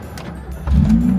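An old car that had sat unused for a long time cranks and catches: a low engine rumble jumps abruptly louder partway through and settles into a steady, close idle, with no voices.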